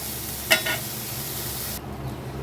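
Brinjal (eggplant) pieces frying in oil on high flame for lau shukto, giving a steady close sizzle with a single sharp utensil clink near the start.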